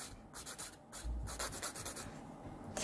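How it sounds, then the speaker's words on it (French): A nail file rasps back and forth to remove semi-permanent nail polish color, giving a series of close, soft scratchy strokes in an even rhythm, with no talking. "Donc je fais des allers-retours pour bien limer ma couleur."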